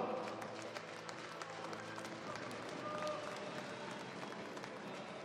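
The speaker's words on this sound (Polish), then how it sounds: "I raz jeszcze wielkie brawa." Steady applause from a crowd at a women's basketball league game award ceremony in Bydgoszcz, continuous dense clapping with faint voices mixed in, even and sustained throughout.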